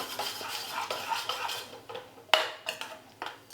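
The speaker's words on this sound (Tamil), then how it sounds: "முட்டையை நல்லா கலந்து விட்டுட்டேன்." Beaten eggs with turmeric are stirred with a utensil in a bowl, making a series of quick clinking taps and scrapes against the side, close and fairly quiet, with one sharper knock midway.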